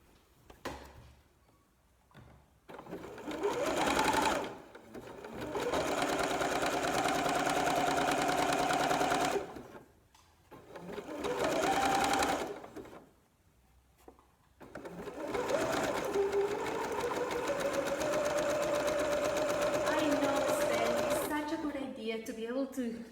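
Close-up, a sewing machine stitches elastic onto a T-shirt being upcycled into a bralette, whirring in several steady runs of a few seconds each, with pauses between them and a person talking during the gaps.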